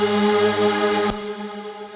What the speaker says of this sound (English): What you're hearing there is a reverb from the reverb send.